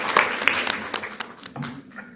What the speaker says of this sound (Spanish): Aplauden, por favor.